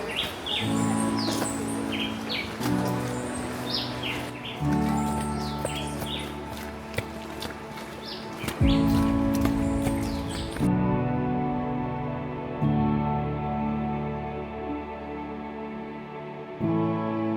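Birds chirp and call outdoors on a Caribbean island in quick, bright bursts over a steady tonal background. The bird calls fade away about two-thirds of the way through, and the lower drone continues alone.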